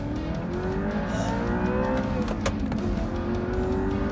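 Audi 4.2 V8 engine blips sharply on a heel-toe downshift, its note rising and falling with rapid revving, loud and close as the car is driven hard, with no voices.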